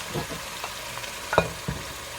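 Meat sizzling in a hot pan for stir-fry noodles, with a steady crackle and a few sharp clinks and scrapes as it is stirred, close and without talk.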